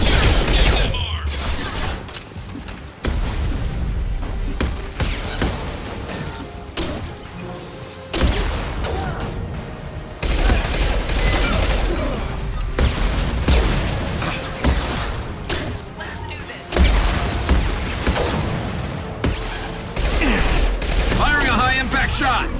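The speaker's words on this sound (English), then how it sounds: "Firing a high-impact shot!" A dense Mass Effect 2 firefight brings rapid volleys of gunfire and heavy shots, close and loud, broken by brief lulls, with combat voices shouting over it.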